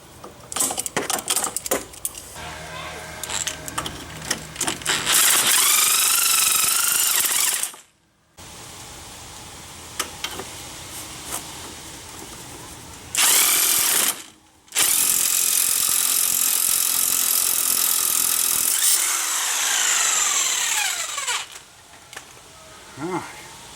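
Metal tools grind and clatter on a seized front strut nut of a 2005 Chrysler Town & Country, with harsh sustained bursts of loud mechanical noise separated by brief pauses and scattered clinks.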